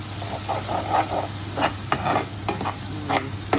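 Onions fried until browned sizzle in a pan as turmeric, coriander powder, garam masala and mixed spice powder are stirred in for prawn malaikari, with a steady close hiss and repeated scraping stirs.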